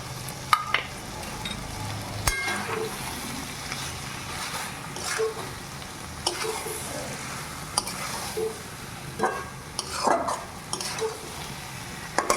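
Small fish added to a hot pan for a Bengali chochchori, frying with a steady low sizzle and intermittent stirring clatter, with a few sharp knocks and a background dog bark; no talking.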